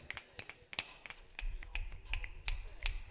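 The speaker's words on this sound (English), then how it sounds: "Snap your fingers next to your face" Fingers snap next to the face in a loose series of sharp, close clicks, about a dozen spaced irregularly, over a low background rumble.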